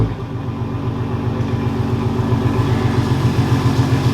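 A Toyota AE86 fitted with a K24 engine idles nearby, its exhaust giving a steady low rumble with a fast, even pulsing that stays constant and moderately loud, with no voices.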